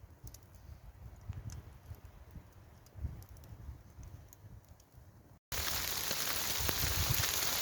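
Hailstones patter and rattle across a wild camp in Scotland, a quiet scattered tapping that suddenly becomes a loud, dense continuous hiss of hail partway through.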